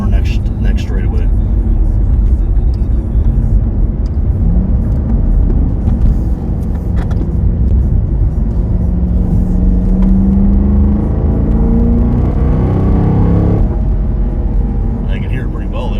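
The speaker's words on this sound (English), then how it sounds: "We're just showing you the amazing sound that is that intake, the noise it makes." Chevrolet SS V8 intake rumbling steadily while driving, a deep continuous drone that swells as the engine revs up through a straightaway, heard close inside the cabin with voices talking over it.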